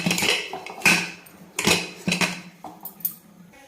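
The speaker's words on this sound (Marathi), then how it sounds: "आपण आता कुकरचं झाकण लावून घेऊ" A pressure cooker lid is fitted on during mutton curry cooking: a close series of sharp metallic clanks and clinks, about six knocks in quick, uneven succession.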